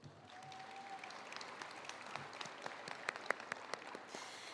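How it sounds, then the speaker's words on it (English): Audience applause fills a commencement ceremony hall, a steady wash of many hands clapping at moderate distance with a few sharper claps standing out, continuing throughout. "That deserves an applause."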